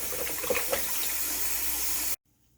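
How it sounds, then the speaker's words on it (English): Beets get a rinse in a pan of water, a continuous rushing, splashing wash of water that runs steadily and then cuts off abruptly near the end. "I'm also giving them a triple rinse in a pan of water"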